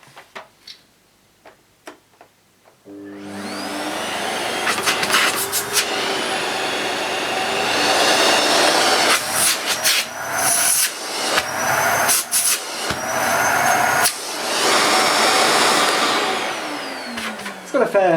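A Hoover Freemotion Pureair 2000 cylinder vacuum cleaner, rated 2000 watts, starts after a few clicks and runs loud and steady, its suction roar shifting as the nozzle is blocked and released, with brief talk over it.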